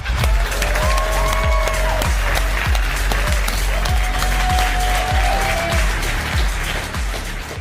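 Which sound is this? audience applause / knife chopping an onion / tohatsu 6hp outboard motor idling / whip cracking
audience applause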